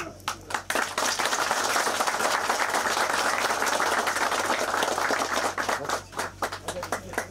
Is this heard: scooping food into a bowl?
no